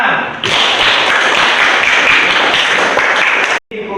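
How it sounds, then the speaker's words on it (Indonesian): A classroom group bursts into dense, loud applause, many hands clapping together at close range for about three seconds before it stops abruptly. "Tepuk tangan."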